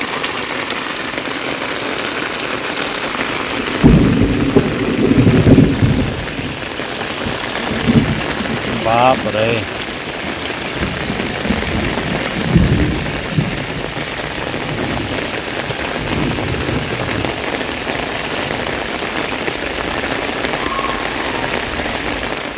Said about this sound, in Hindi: ये देखिए बादल बहुत ही ज़्यादा गरज रहे थे आज।